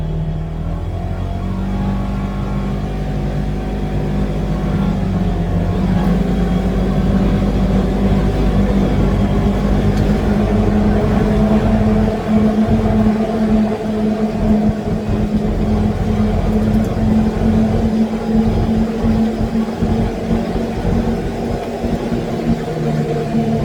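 A Polaris Ranger UTV driving fast down a road gives a loud, steady engine drone with shifting pitch and rumbling wind buffeting, heard from inside the vehicle with no talk.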